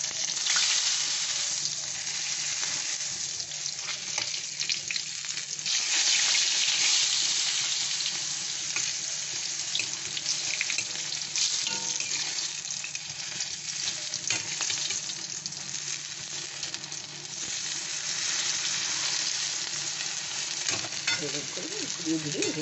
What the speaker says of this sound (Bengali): এই যে আমি বেগুনগুলো ভেজে নিচ্ছি